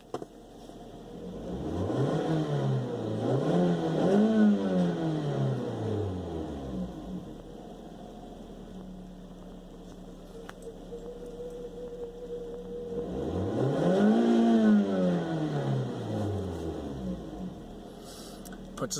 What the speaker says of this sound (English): So here's what revving it sounds like from inside.